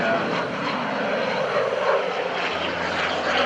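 A Russian-built World War II era propeller trainer flies overhead at the 2012 NAS Oceana airshow in a Warrior Flight Team display, with a continuous loud engine drone and a broad, rushing roar and no voices.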